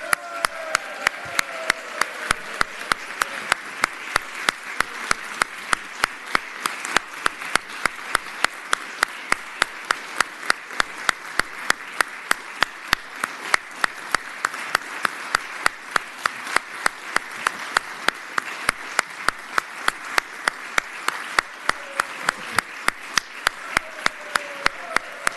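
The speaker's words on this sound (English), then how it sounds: "join me on your feet in giving a round of applause to our Madam Clerk" People on their feet give a long round of applause in the Senate of Virginia chamber. The claps sound crisp and closely spaced, hold steady for about twenty-five seconds, and are fairly loud, with faint voices behind them.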